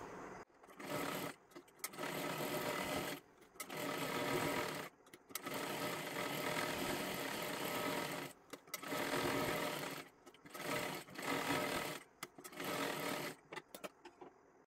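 A sewing machine stitches a girl's long one-piece dress, running in repeated bursts of steady whirring of one to two seconds each, separated by short pauses. The machine sounds close and moderately loud, with no voices.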